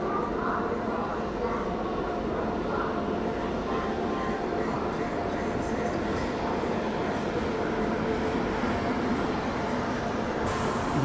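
Secunderabad–Repalle Express pulling out of Guntur Junction: a steady, low onboard rumble of the moving train that holds even for the whole stretch, with faint voices underneath.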